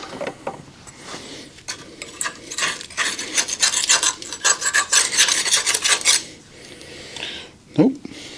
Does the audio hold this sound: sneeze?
no